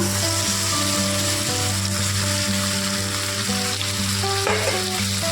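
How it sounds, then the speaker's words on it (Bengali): Chicken pieces tipped into hot oil for a Bengali chicken kasha, producing a loud, continuous close sizzle that holds steady throughout, with a brief clatter near the end and no talking. "এবার আমি এর মধ্যে চিকেনটাকে অ্যাড করে দিব"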